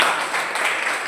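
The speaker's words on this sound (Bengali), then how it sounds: "বাহ, পারফেক্ট, হাততালি" A brief burst of group applause rises during a theatre workshop at a high school, a dense clatter of hands lasting about a second.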